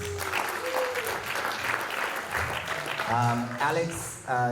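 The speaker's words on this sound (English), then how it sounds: "Give them a round of applause, guys." An audience at a museum talk on CHamoru dance claps for the performers being called up, the applause running under a speaking voice and shouts, with a brief swell near the end.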